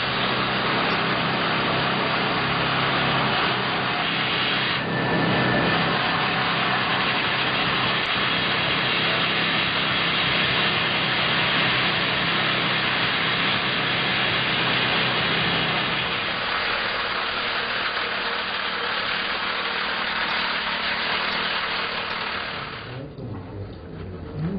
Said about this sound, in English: Water pumped from the surface cools and lubricates the drill bit, but little can dampen its roar.